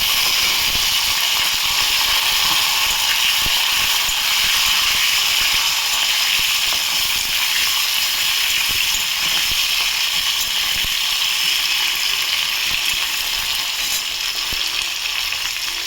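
Two fish heads fry in hot oil over panch phoron five-spice seeds, making a loud, continuous, close sizzle that holds steady throughout with no pauses or voices.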